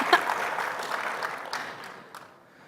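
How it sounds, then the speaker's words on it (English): A conference audience applauding a speaker, a burst of clapping that starts fairly loud, then thins and fades toward the end, heard from within the hall. "I got applause"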